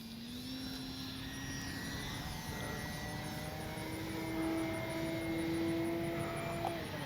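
A small radio-controlled model airplane's engine drones with a faint, shifting whine that rises and falls in pitch as it passes, steady and fairly distant.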